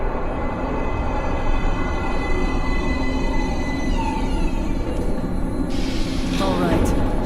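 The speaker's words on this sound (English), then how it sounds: "Train coming in." Metro train pulling into an underground platform in the video game Metro Last Light, a loud continuous rumble and rattle of wheels with squealing brakes toward the end, alongside voices.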